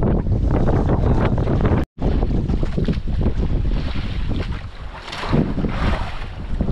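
Strong, steady wind roars and buffets across the microphone, with a brief dropout partway through, over a choppy background like water slapping a boat.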